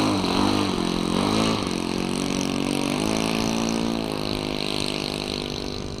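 A Kadet LT40 model aircraft's small glow engine buzzes steadily while taxiing at an outdoor club field, a continuous high-pitched drone with slight pitch wavers, fairly close and gradually easing in loudness.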